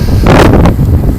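Gusty wind buffeting the microphone on a windy morning bike ride, a loud, rough roar that swells and fades over about a second, with no talking.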